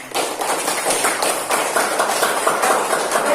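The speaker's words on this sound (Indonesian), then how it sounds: "mari kita tepuk tangan" Students in a classroom lesson clap together for a good question, a dense, steady patter of many hands at close range, even in loudness throughout with no speech over it.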